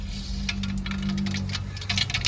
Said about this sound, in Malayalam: കടു പൊട്ടിയിട്ടുണ്ട്